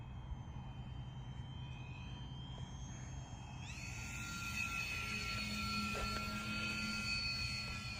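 A small RC Piper Cub model airplane flies overhead in slow flight with flaps down, its engine a steady whine that brightens and grows louder as throttle is added, heard from the ground over light wind noise.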